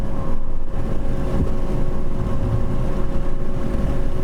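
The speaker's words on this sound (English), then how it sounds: "I have my foot to the floor, you hear my RPMs not really going anywhere" Mazda car engine straining at full throttle during a mountain touge run, a steady loud drone with constant wind and road roar throughout, no talking.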